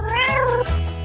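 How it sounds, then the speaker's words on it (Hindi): A cat meows from inside a basket, a single long, loud, close call with a rising then falling pitch, followed by a brief second sound at the end. "अरे नहीं, मेरी बिल्ली इसमें है।"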